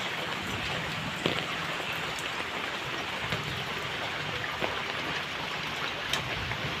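Heavy rain pours steadily and densely around a house, a continuous close hiss of water on surfaces with scattered brighter drops and no voices.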